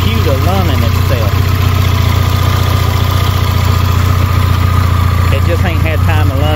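A Suzuki Samurai engine fitted with Holley Sniper EFI idles steadily and loudly up close, a constant low rumble with slight wavering as it settles.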